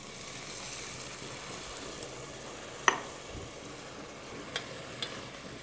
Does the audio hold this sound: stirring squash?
yes